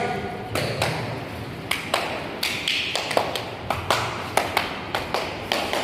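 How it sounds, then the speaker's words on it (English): Hand claps from participants in a training energizer game, a series of sharp, irregularly spaced claps, sometimes in quick pairs, over a steady murmur of room noise and voices. "then I clap twice"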